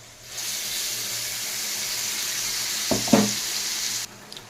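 Fried potatoes in a pan with turmeric, sugar and poppy seed paste added, giving a steady moderate sizzle with a brief clatter of stirring near the end before it quietens.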